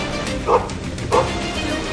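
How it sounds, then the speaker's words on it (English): A police canine handler's dog gives two sharp, close barks about half a second apart, loud against a steady background hum. "Here's my dog Kraken."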